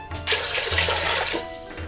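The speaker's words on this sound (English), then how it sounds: "In the pot, we're going to put 6 cups of water." Water poured into a cooking pot for Greek lentil soup, a brief rushing gush that swells and then tapers off, heard close and fairly loud with no talking.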